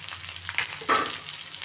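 Cumin, mustard seeds, a dried red chili and garlic crackling in hot tempering oil for tomato chutney, a loud, close, continuous sizzle with a brighter burst of spitting partway through.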